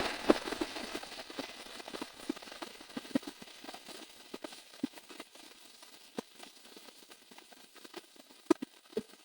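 Ginger, garlic and onion paste hits a small amount of hot oil, producing quiet, scattered pops and crackles over a soft sizzle, with no voices.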